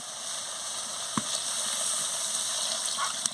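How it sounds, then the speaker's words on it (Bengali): Water goes into a pan of spiced fish curry with mustard paste, giving a soft gushing, hissing wash with a couple of small clinks, close and moderate and free of speech. "এবারে জল দিয়ে দেবো।"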